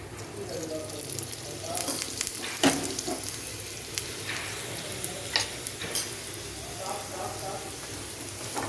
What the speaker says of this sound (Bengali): একটু তেল দিয়ে এপিট ওপিট করলেই হয়ে যাবে।